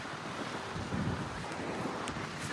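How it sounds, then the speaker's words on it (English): A small waterfall beside a canal bridge on a trail in Leeds gives off a continuous broadband rush of water, steady and fairly close, mixed with outdoor wind noise. "A little bit of a waterfall and stuff."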